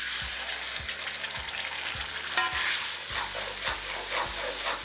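Bay leaf, dry chili and asafoetida frying in hot oil: a steady close sizzle and hiss that runs throughout, with soft regular stirring scrapes and one sharper spit partway through.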